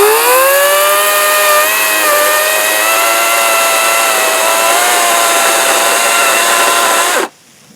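EGO battery chainsaw with plastic bumper teeth revving freely, not cutting: loud, steady high electric whine with a slight pitch dip, running continuously then cutting off abruptly.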